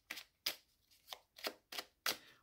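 A deck of tarot cards is shuffled in six evenly spaced riffling swishes, soft and close with brief pauses between them.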